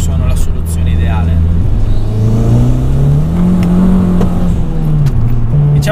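A 305 hp Abarth 500 accelerates hard, the engine note rising and swelling into a strong, close revving pull before settling, loud and dominant throughout.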